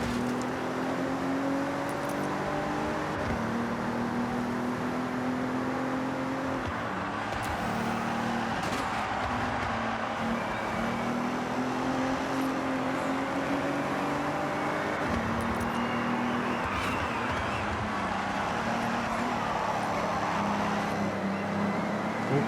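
A rear-wheel drive AMG car engine hums steadily through a Forza Horizon road race, its pitch rising and dropping with repeated gear shifts over a constant tyre and road roar.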